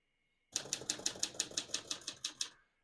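Rapid, even keystrokes on a 1951 Smith-Corona Silent portable typewriter, about a dozen crisp clacks close to the listener, with no talking.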